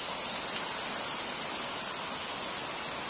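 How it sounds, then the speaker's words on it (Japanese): Cicadas drone in a bright, high shrill band over a steady rushing babble from a mountain stream, both constant and fairly loud throughout, with no voices. "セミの音とせせらぎの音と、"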